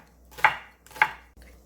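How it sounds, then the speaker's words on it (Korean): A knife chops Cheongyang and red chili peppers on a cutting board, two crisp close thuds about half a second apart followed by a softer tap, with no talking. "청양고추하고 홍고추 송송송송 썰어주세요."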